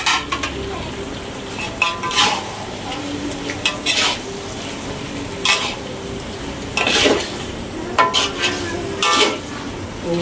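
Shallots go into a pan and are stir-fried with chili, the spatula scraping and clattering against the metal in repeated bursts over a constant sizzle, close and fairly loud.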